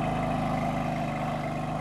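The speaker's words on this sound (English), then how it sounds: "He loves the sound of the M4's engine." A BMW M4 engine runs with a steady, continuous mechanical drone and a low throbbing hum, heard alone and fairly close, holding an even level without a distinct rise in revs.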